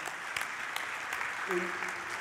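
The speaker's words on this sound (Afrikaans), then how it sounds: "Kom ons gee die Here 'n lekker hande klap." A church congregation applauds the Lord during a service, steady moderate clapping throughout with a voice briefly heard over it near the end.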